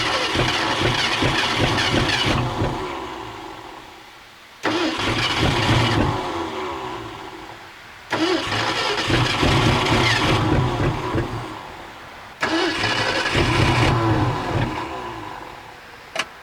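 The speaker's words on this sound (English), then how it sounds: "It is running after we let go of the key, correct?" A big block Mercury engine, off the road for decades, repeatedly cranks and catches, running in loud sustained bursts that fade and cut off, then restarts about four times.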